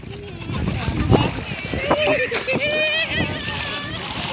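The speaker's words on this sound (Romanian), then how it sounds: "Dă cu apă pe tine, Costea!" Water splashing as a child plays in water, irregular splashes and sloshing close by, under an adult's encouraging talk and a voice.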